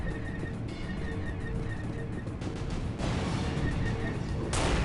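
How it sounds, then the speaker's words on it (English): Explosions in the video game Unreal rumble as a dense, continuous low roar, with heavier booming surges around the middle and near the end, over a steady wash of broadband game noise and no talking. "Why do I hear explosions?"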